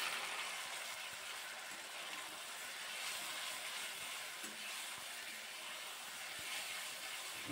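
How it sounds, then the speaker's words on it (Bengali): Ginger-garlic paste, green chili paste and tomato paste sautéing in a pan, a faint, steady hiss and sizzle that holds evenly with slight crackling and no talk over it. "দিয়ে দেব বড় 1 চামচ ভর্তি আদা রসুন বাটা, 1 চামচ কাঁচা লঙ্কা বাটা, একটা টমেটো বাটা। সমস্ত কিছু দিয়ে ভালো করে একটু কষিয়ে নেব।"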